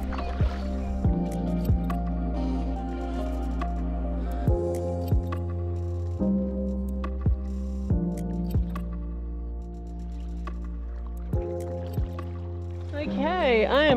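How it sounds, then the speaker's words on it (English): A Swift Cruiser 16.8 canoe paddled solo along a flooded creek in the Chowilla Game Reserve, with regular soft paddle strokes and watery splashes repeating over a steady low hum, close by. "I'm just going to shut up and paddle."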